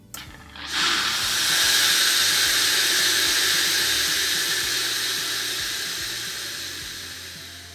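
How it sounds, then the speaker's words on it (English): Steam hisses steadily from the nozzle of a Polti Cimex Eradicator steam disinfector as its delivery trigger is held: after a brief start it becomes a loud, continuous broadband rush that slowly fades as the flow runs out. No one speaks. "pull the steam delivery trigger of the steam disinfector nozzle until all steam flow ceases."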